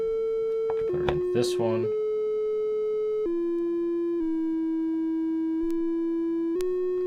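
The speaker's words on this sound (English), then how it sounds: "Then let's take the square / pulse wave." A sustained buzzy square/pulse wave synth tone from a Cocoquantus holds steady and steps to new pitches every second or so, with a voice briefly talking over it near the start.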